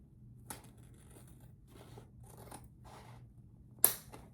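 Scissors snip through a length of ribbon folded in half for a Grinch Christmas wreath, a few quiet cuts followed by one sharp, close snip near the end, with no voices.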